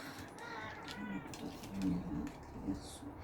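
A pet cat meows several times indoors, its short cries rising over someone speaking French close to the microphone.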